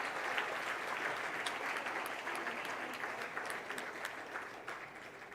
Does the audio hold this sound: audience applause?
yes